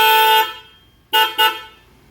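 A Suzuki Swift's newly installed car horn honks in one long blast, then after a pause gives two short quick toots, loud and close.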